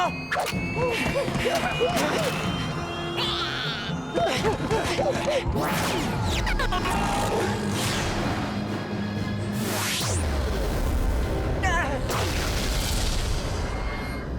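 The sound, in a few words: explosion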